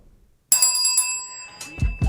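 A bright bicycle-style bell rings in a quick burst of several strokes after a moment of silence, then lets its tone ring out while a few low thumps and clatters follow close by.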